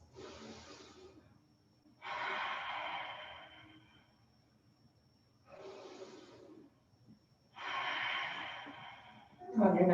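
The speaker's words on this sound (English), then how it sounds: "Breathing deeply here" Deep breathing during a yoga flow: slow, loud alternating inhales and exhales, each breath drawn out over a couple of seconds with quiet pauses between.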